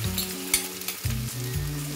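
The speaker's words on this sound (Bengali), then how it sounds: "এবার এটা আমি ভালোভাবে ফ্রাই করে নেব।" Beaten egg sizzles steadily in a hot pan over a high gas flame, a continuous close frying hiss with a few soft stirring scrapes beneath it.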